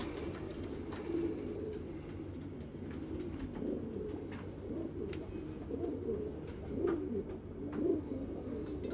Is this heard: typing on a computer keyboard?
no